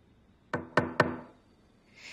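Three sharp knocks on a door in quick succession, close and loud against a quiet room, with no talking.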